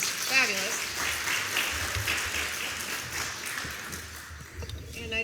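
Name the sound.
applause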